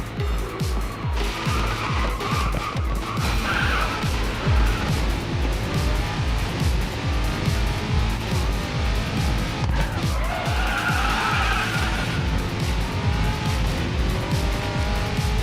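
A Bugatti in a racing video game drifts with loud sustained tire squeal over a pulsing engine roar, close and continuous.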